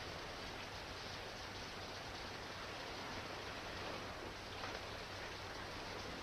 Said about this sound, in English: I like it when it rains really hard.